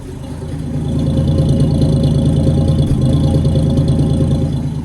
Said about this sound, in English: Straight 6 GM engines.